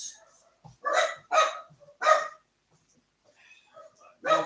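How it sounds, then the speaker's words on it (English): Dogs bark in a home kitchen, several sharp close barks in quick succession with brief pauses between them, with faint background sounds. "Dogs are going to bark."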